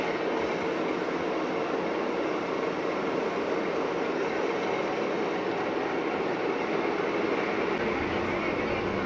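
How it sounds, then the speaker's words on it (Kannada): A MEMU express train pulls away from Piravom Road station in a continuous loud rumble and roar of carriages that holds steady throughout, with no clear voices. "ಪಿರವಂ ರೋಡಿಂದ ನಮ್ಮ ಟ್ರೈನ ಬಿಡ್ತು"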